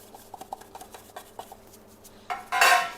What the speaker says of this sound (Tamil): ரெண்டையுமே நீங்கள் கொஞ்சம் ஆல்மண்ட் ஃப்ளவரில் மிக்ஸ் பண்ணிவிட்டு மிக்ஸ் பண்ணி வச்சுருக்க கொக்கோ பவுடர் சுகரில் மிக்ஸ் பண்ணிடும்